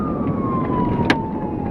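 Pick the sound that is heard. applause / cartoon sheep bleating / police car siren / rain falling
police car siren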